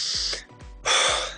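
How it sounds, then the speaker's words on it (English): Heavy, gasping breaths from a man out of breath after running, three loud, close breathy bursts with short pauses between, the last the longest and strongest. "How I'm breathing right now? I'm out of breath."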